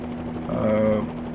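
Simulated Bell 47 helicopter rotor and engine drone from Microsoft Flight Simulator 2020, a steady tonal hum that swells briefly mid-clip, with faint talk underneath.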